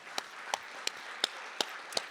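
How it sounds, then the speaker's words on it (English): Scattered handclaps from an audience at a university's spring opening-day welcome event, about six sharp, evenly spaced claps over two seconds rather than a full ovation, moderately near. "let's give them a round of applause"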